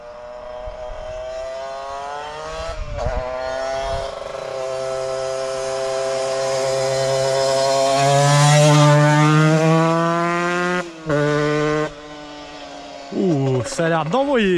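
A Yamaha DTX 125 two-stroke motorcycle fitted with an Ignitech ignition runs close by, its steady engine note rising and falling through revs with a couple of brief cuts near the end.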